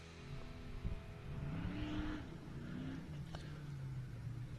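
Off-road rally race vehicle at the NORRA 500 desert race, its engine revving on the throttle then easing under hard braking, a continuous mid-distance drone with shifting pitch and steady background noise.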